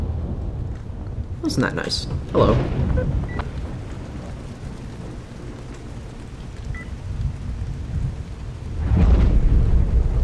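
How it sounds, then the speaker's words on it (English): Rain falling steadily with low rolling thunder in the video game S.T.A.L.K.E.R. GAMMA, broken by sharp cracks early on and a heavy rumble toward the end, with someone talking briefly over it. "Oh, it's raining."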